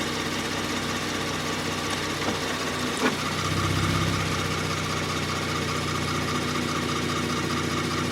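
A 2019 Kia Stinger's engine idles steadily to warm up, a low even hum with a brief clunk partway through and a slight rise in tone afterward, no voices.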